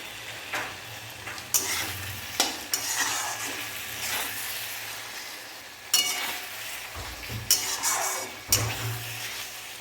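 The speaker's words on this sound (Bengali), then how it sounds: "মশলাটা নাড়াচাড়া করা হয়ে গেলে এর মধ্যে দিয়ে দেবো মাছ" Fish frying in a spice paste while being stirred, loud crackling sizzle punctuated by sharp scraping and clanking of a spatula against the pan, close up with no voices.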